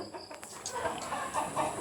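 Chickens at a chicken farm clucking continuously close by, a busy overlapping chatter that stays at a steady level over farm background noise.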